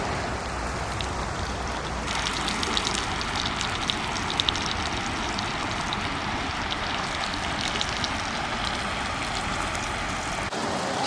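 Creek water flows in a Kentucky woodland in spring, a soft, steady trickling wash heard from nearby, continuous and fairly quiet with faint scattered splashes and no talking.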